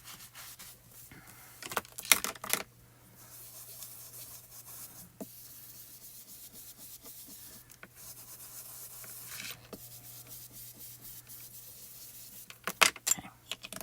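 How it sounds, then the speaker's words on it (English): A rag wipes ink off craft foil in soft, faint rubbing strokes over a quiet hum, with brief sharper scuffing bursts near the start and again at the end. "So we just take a rag and wipe it down, and then all that ink comes off of our foil"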